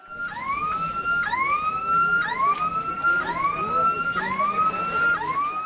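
A fire brigade vehicle's siren at a student protest against fee hikes at Allahabad University, wailing in repeated rising sweeps about once a second, loud and fairly close over background crowd noise.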